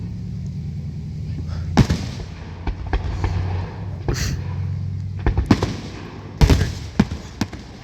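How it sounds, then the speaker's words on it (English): Fourth of July fireworks burst at night in scattered sharp cracks and booms, some in quick clusters, loud against a steady low hum, with people talking quietly in between. "And this is Daddy's first fireworks of the year."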